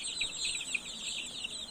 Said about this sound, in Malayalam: കോഴിക്കുഞ്ഞിനെ നിലത്ത് വെച്ചേരെ.